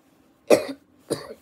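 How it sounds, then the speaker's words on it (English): Two short, close coughs about half a second apart, with a quiet pause before the first and no speech. "got the cough"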